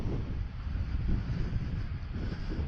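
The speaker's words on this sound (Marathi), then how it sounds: "मस्त गारगार वारा" Steady wind buffeting a microphone on a motorcycle ride, a loud continuous low rumble and roar that never lets up, with no voices.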